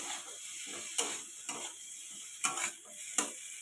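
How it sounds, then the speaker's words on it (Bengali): Papaya pieces fried with salt and turmeric in a pan are stirred with a utensil, giving several quick scraping clacks at irregular intervals over a faint background sizzle. "পেঁপেটা একটু নেড়ে দেবো"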